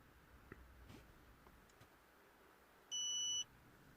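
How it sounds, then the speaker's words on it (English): A single short electronic beep from an Autel MaxiSys diagnostic scanner connecting via USB to a Mini One R56 with an ABS fault sounds clearly against quiet background noise, preceded by a few faint clicks. "That beep is the MaxiSys now connecting through USB."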